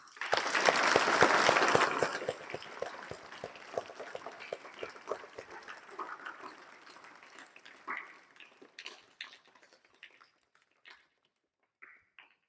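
Applause from an audience thanking parents and teachers at a meditation prayer gathering, loud at first and then thinning into scattered claps that trail off toward the end.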